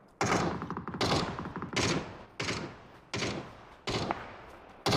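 Rapid bursts of gunfire from a PUBG battle, five loud volleys spaced about a second apart, each a sharp crack trailing into a short rattle, with no voices.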